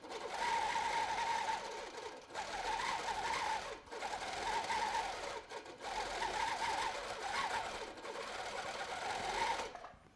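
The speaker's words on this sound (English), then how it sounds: "that's when the machine stitches when I'm not moving" A Baby Lock Gallant sewing machine stitching in steady bursts, its close, fast mechanical whirr running in several long runs separated by brief pauses.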